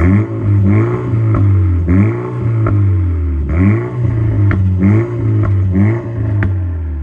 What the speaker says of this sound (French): déjà le moteur il ronronne de manière différente